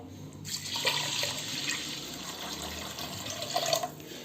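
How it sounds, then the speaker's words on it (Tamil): Water pours steadily into a pot of rice and toor dal being readied for sambar rice in a pressure cooker, a continuous close splashing stream with no talk. "1 கப்பு துவரம்பருப்பு, அதனால் 6 கப்பு நம்ம வந்து தண்ணீர் விடுறோம்."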